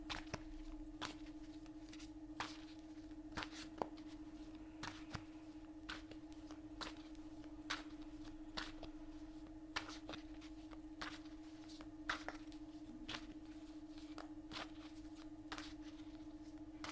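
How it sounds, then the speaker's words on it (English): Tarot cards are shuffled quietly and repeatedly, a steady series of soft riffling flicks against a constant low hum. "shuffling the cards now."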